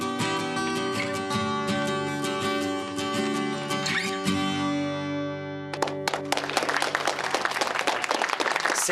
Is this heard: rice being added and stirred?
no